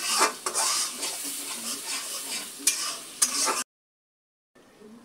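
Mashed jackfruit seed and dried hilsa fish stirred and fried in soybean oil in a pan: a loud, close sizzle with scraping spoon strokes and a couple of sharp knocks, then sudden silence and a faint return.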